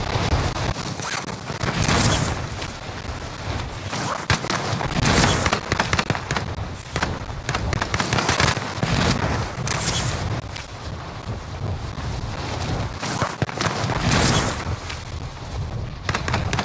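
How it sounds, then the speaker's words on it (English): Sustained bursts of video game gunfire ring out in a Season 3 update match, loud dense automatic volleys and booms layered almost continuously throughout. "Man, I'm getting shot at already."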